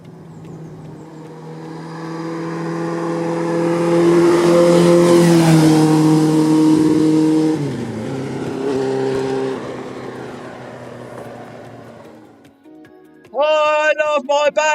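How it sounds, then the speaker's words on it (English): A V8 car engine rumbles loud and close, rising in a sustained rev before easing back down, with a short burst of other engine noise near the end. "I do love that V8 rumble."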